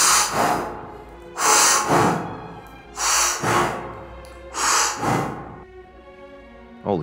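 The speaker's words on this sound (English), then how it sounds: "I gotta start breathing heavily." Heavy breathing close to the mic, with four long, loud breaths in a slow, even rhythm, each one drawn in and pushed out with a rushing hiss.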